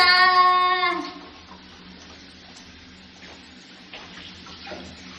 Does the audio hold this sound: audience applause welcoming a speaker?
no